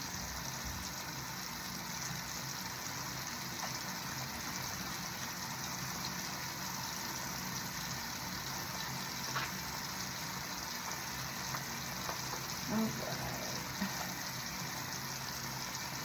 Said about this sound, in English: So now I'm going to rinse my hands for a second time